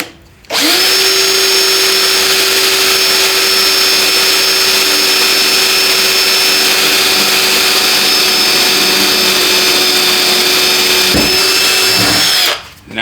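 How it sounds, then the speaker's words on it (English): A power drill bores a pilot hole into a Dodge RAM truck with a loud, steady high whine lasting about twelve seconds, starting and stopping abruptly, close up and with no talk. "Let the drill do its work."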